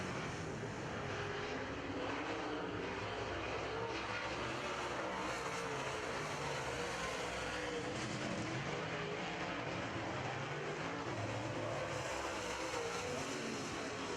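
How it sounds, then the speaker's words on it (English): Late model race cars roaring past on an oval track during a heat race, a continuous loud engine drone rising and falling as the cars sweep by, with no talk. "Walt Morris off the back straightaway in the purple Challenger as the 55 drives on by"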